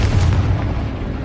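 A deep, loud explosive boom from the Confringo blasting spell in Hogwarts Legacy, one heavy impact decaying into a rumbling tail.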